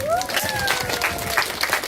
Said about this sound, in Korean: 박수 한번 더 주시고